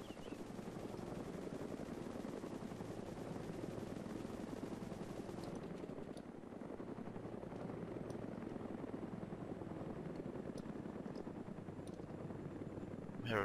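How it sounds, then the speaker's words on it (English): Helicopter rotor drone in the DayZ mod on a snowy island, a steady broadband whir hovering overhead for the whole stretch, with sharp crackling shots scattered through the second half. "Chopper."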